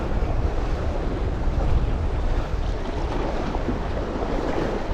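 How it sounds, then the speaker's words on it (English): Steady, full rush of ocean surf breaking near the shore at a bass lure-fishing spot, heavy and continuous with wind buffeting mixed in and no talking. "It might get splashed by the odd wave here"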